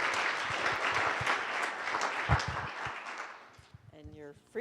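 An audience applauds a conference panel with dense, steady clapping that thins out near the end as a voice starts up.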